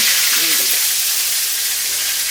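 Bay leaves and dried red chillies frying in hot oil for a chicken kosha, a bright steady sizzling hiss close to the pan.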